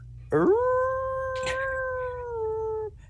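A performer at a live improv comedy show imitates a wolf howl: one long, sustained, steady-pitched vocal wail lasting over two seconds, loud and close, with no speech.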